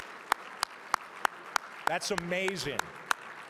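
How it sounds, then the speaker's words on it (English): Sparse, steady handclaps from an audience at a judicial excellence gala, a few hands striking in a regular rhythm with a brief spoken remark in the middle. "Let's give a really big round of applause"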